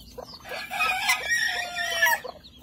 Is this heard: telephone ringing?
no